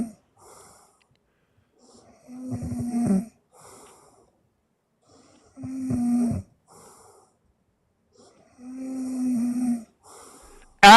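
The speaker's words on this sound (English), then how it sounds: "We gotta snore." Three loud snores recur at steady intervals of about three seconds, each a rough, low rasping inhale close to the ear, separated by quieter breathing and faint sounds.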